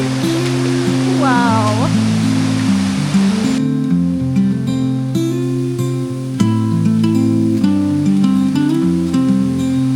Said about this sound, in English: We're going to a waterfall. We made it.